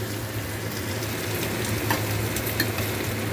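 Fried pointed gourd goes into a curry of potato and jackfruit seeds bubbling in a pan, giving a loud, dense, continuous sizzle close by, with no voices.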